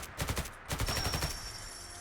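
Automatic fire from the AnotherOne AM-17 rifle in Fallout 4, a rapid burst of booming shots in quick succession followed by a fading ringing tail.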